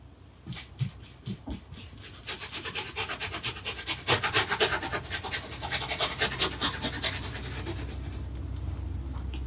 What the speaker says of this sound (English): I'm having to kind of scrub that in there because of there's so much texture.